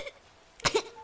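A single short, sharp cough, close and fairly loud, after a brief pause in near silence.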